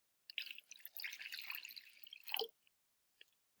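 Warm water pours briefly into a plastic bag, a close splashy trickle lasting about two seconds, followed by a few faint drips and handling taps in near silence.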